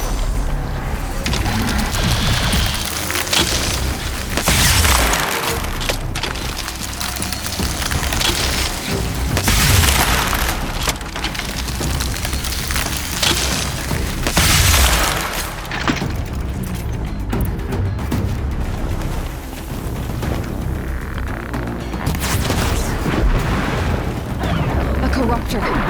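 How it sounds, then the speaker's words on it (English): Fighting rages at the Karja fort in Horizon Zero Dawn, with heavy booms, clanking mechanical noises and explosive impacts. The din is dense, continuous and loud throughout. "Sounds of fighting. Has something attacked the Karja"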